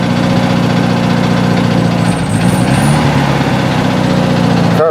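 A 1970 VW Beetle air-cooled engine with a worn carburetor runs at a steady, loud idle close by, a continuous low mechanical drone with a slight dip in the middle and no talking.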